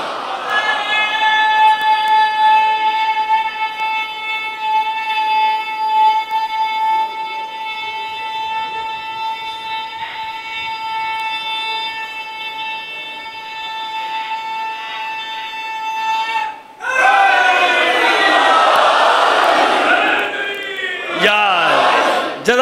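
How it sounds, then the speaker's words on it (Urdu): A congregation at a Muharram majlis in an imambargah loudly chants salawat together, a roaring crowd of voices that follows a sustained amplified tone near the end. "اتنی بلند آواز سے صلوات بھی نہ فرما دیجئے گا۔"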